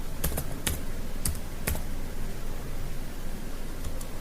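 Keys are typed on a computer keyboard while entering code, with a handful of close, crisp clicks spaced irregularly over a steady background hiss.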